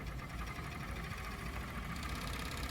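A Pegasus coverstitch machine runs steadily through knit fabric, a continuous mechanical hum and rapid needle rattle holding even and fairly loud from start to finish with no voices.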